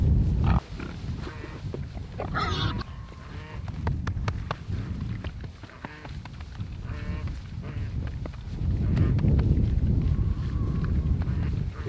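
Pigs on a homestead grunting and snuffling close by, with brief squeals, rooting and shuffling in the pen, a continuous busy mix of animal noises, with a person's voice faint in places.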